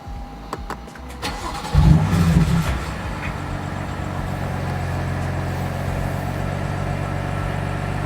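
A BMW M3 engine is started with clicks and a brief cranking whirr, then catches with a loud rev before settling into a steady, close idle.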